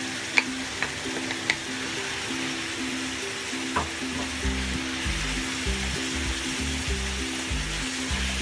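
Americana hot dog frying in a pan of simmering spaghetti sauce, a steady close sizzle with bubbling and a few stirring clinks, no voices.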